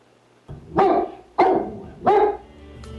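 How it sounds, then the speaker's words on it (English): A dog in a radio commercial barks three times in loud, evenly spaced bursts, each sharp and close, with a short gap between them and no talking. "You've got a great watchdog. He barks every time someone comes to the door"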